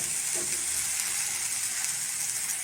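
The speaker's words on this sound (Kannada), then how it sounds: "ಚೆನ್ನಾಗಿ ಕುದಿಸ್ಬಿಟ್ರೆ ಸಾರು ರೆಡಿ." A pot of chana dal and snake gourd sambar bubbles on the stove with a steady bright sizzling hiss and a faint low rumble underneath, continuous and close.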